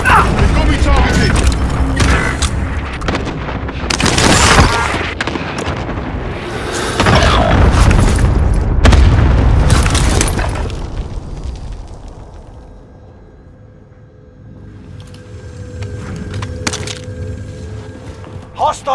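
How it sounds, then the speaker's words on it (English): Airstrike explosions from Call of Duty: Modern Warfare, several heavy booming blasts with rumbling decay, loud and close, followed by quieter mechanical ambience; a voice speaks over parts. "Designating target for airstrike."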